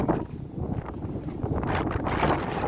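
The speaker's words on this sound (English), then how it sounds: "you can feel the breeze coming through this hallway" Breeze moving through a hallway of Colbeck Castle, a steady, moderately loud rush of wind across the microphone with a soft rustle that builds slightly toward the end.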